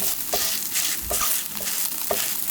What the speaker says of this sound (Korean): 앞뒤를 노릇노릇하게 구워주시면 돼요